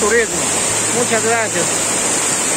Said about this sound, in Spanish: como bien podemos ver esas hermosas cascadas